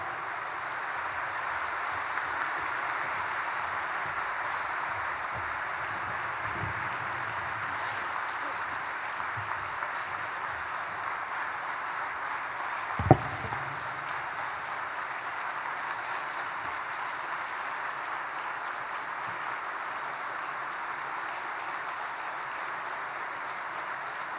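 An audience applauds steadily at the State of the Province Address as Premier Rachel Notley is welcomed, a continuous dense wash of clapping with a single louder thump partway through.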